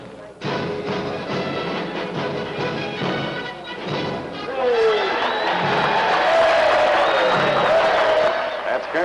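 A crowd of townspeople in a frontier town cheers and shouts continuously, a loud, dense roar that swells in the second half, with voices calling out over it.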